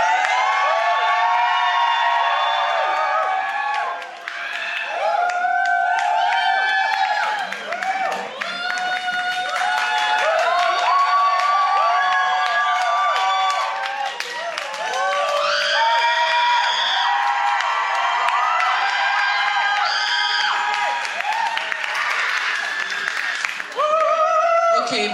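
Audience at a Scottish drag pageant show cheering, screaming and whooping loudly and continuously, a dense crowd roar with high shrieks and some applause, a few voices shouting over it.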